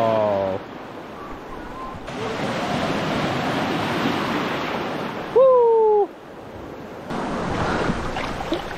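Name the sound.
sea waves at Radhanagar beach, Havelock island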